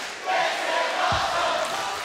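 Wrestling crowd at Victory Road 2012 in a TNA match between Kurt Angle and Jeff Hardy, a dense arena roar swelling in and holding loud, with a brief thud partway through.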